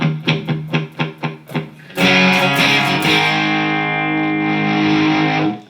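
An electric guitar runs through an MXR Distortion+ / DOD 250 distortion pedal: a series of short, choppy distorted chord stabs, then a loud sustained fuzzy chord that rings out before cutting off.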